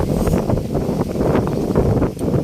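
Strong, steady wind roars across the microphone throughout, a loud continuous rushing with gusty buffeting and no speech.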